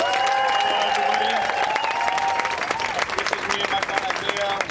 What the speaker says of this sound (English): Let's give a warm round of applause for our closing song.